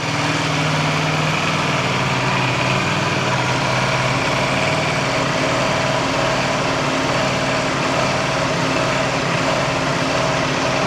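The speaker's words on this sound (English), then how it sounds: "My first startup on my gorgeous Panigale V4 Tricolore Italia." Ducati Panigale V4 Tricolore Italia motorcycle with zero miles, its engine running loud and steady right after its first startup, a constant dense idle roar with no talking.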